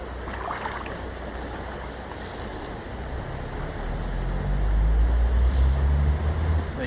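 Stream water flows and churns in a steady broadband wash, close and fairly loud, with a deeper surge building toward the end as a bottle is lowered into it for water sampling.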